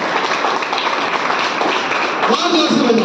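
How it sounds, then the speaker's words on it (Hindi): A class of students at a Jain temple learning centre in Indore claps for themselves, a continuous patter of many hands filling the room. "तालियां बजाओ अपने लिए जोर से"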